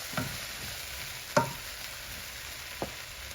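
Okra and mixed vegetables for pinakbet being stirred in a pan, giving a steady soft sizzle with a few sharp scraping strokes, one louder stroke near the middle.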